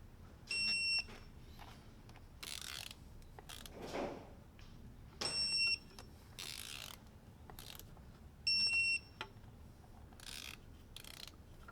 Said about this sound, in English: Now we're gonna torque it to 8 Newton meters.